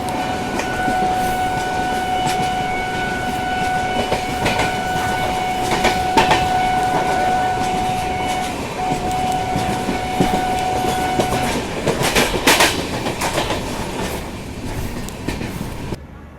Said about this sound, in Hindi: और ये है मालवा एक्सप्रेस जिसके साथ अपनी क्रॉसिंग हो रही है अभी।